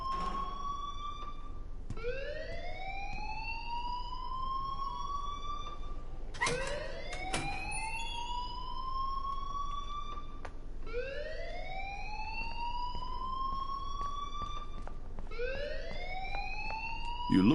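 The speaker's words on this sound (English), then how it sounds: "please turn off that alarm since that's your job." An alarm blares in the video game Life is Strange: loud, continuous electronic whoops, each tone sweeping upward and repeating about every two to four seconds, with no voices.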